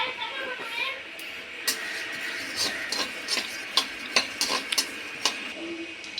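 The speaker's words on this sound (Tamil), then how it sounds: "காஞ்சோடனே மல்லியை போட்டு வைக்கணும்." Whole coriander seeds tossed and stirred in a hot dry pan while making a homemade garam masala, with close, scattered scraping ticks and light crackles over a soft background hiss.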